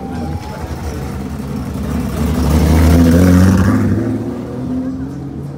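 Engine of a prepared rally car at an autumn rally, a loud revving drone that swells and fades as the car passes, with a voice speaking over it.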